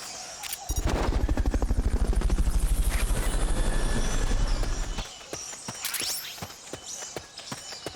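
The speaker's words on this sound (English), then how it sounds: "Fulton recovery subject confirmed onboard helicopter" A video game helicopter in Metal Gear Solid Peace Walker thumps with fast, loud rotor chops close by, then fades into the background under scattered sharp game sound effects.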